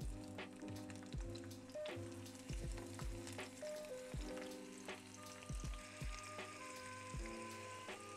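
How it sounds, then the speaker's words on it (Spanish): Five garlic cloves and onion fry in a pan for Oaxacan mole coloradito, giving a continuous close sizzle under a rhythmic musical backing, with no speech. "Y aquí tengo lo que es 5 dientes de ajo. Y lo voy a freír junto con la cebolla."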